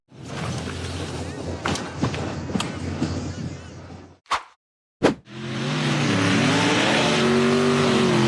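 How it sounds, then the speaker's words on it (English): An orange-framed off-road buggy revs hard while powering up a steep dirt hillside, a loud close engine roar that cuts out briefly with a couple of sharp bangs before surging back into a sustained high rev. "The orange-framed buggy revved hard and powered up a steep hillside."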